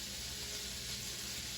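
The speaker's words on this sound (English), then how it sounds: "You can hear that butter sizzle." Melted butter sizzles steadily in a pan while chicken is coated for cordon bleu, a brief, dense, close hiss with no talking.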